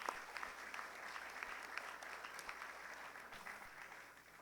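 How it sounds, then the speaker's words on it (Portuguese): Audience applause at a solemn academy session in a hall, steady dense clapping from a large crowd heard at a distance, fairly faint and even throughout. "vamos aplaudir"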